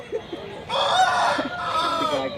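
A rooster crows loudly and close by at a poultry market in Guntur, one long drawn-out call following a few soft clucks.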